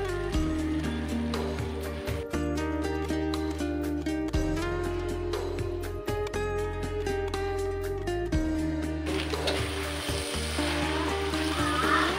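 Mie Aceh noodles fry with soy sauce, sweet soy sauce and a splash of vinegar, giving a steady sizzling hiss over a loud, continuous mechanical hum, with pan and stirring clatter mixed in.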